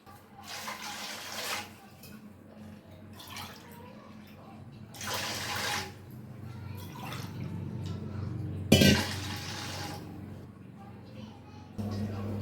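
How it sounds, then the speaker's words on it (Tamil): Measured water pours into a pot in several separate bursts, splashing close by, and soft voices can be heard in the background between pours. "இப்போ நான் தண்ணி அளந்து ஊற்றிக்கிறேன்"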